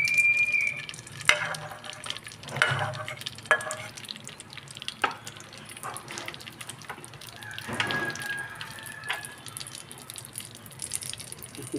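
Semolina frying in ghee for mango juice halwa, a soft continuous sizzle broken by scraping and clinking of a spoon stirring in the pan.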